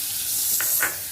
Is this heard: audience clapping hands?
no